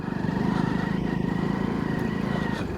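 A loaded Hero Splendor motorcycle runs on a wet road, its small engine putting out a steady close buzzing drone with a fast regular pulse and no talk over it.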